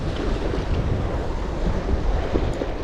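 Choppy waves slap and wash on open water while strong wind buffets the microphone, a loud, continuous rushing roar from a boat during a bass lure-fishing outing.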